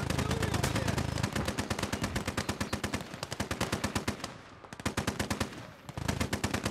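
Dense, rapid machine-gun and rifle fire from soldiers in the World War II game Gates of Hell: Ostfront, loud and continuous, with sharp staccato bursts overlapping across the whole stretch.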